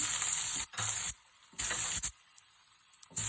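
Green chilies and onions sizzle in a hot pan, a loud, close hiss that cuts in and out in bursts as the pan is stirred or moved.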